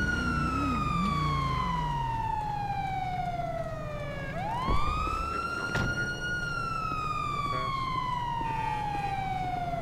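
A wailing police car siren in a video game set in Los Santos sweeps down steadily, jumps back up, then glides down again, loud and continuous over a low background rumble.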